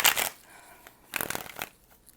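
Tarot cards shuffled by hand in two quick riffling bursts, crisp papery flutters separated by a short pause, close and fairly quiet.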